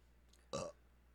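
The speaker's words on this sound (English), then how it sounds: "That was a untimely burp." A single short, close burp erupts once in a quiet room and lasts under a second.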